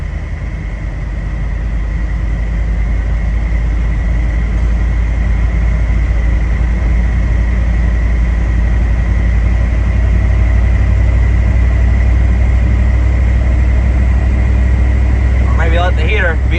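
A diesel Ford Highboy truck drives through snow with a steady low engine drone and road rumble throughout, and someone talks over it.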